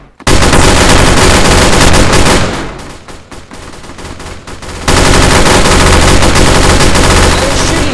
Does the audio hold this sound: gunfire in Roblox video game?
yes